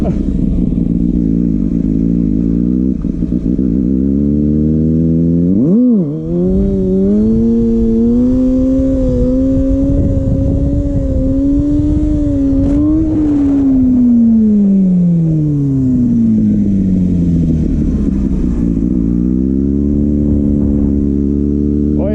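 A Kawasaki ZX6R Ninja motorcycle engine revs loud and close, climbing sharply in first gear, holding a strained high pitch, dropping off, then rising again after a gear change.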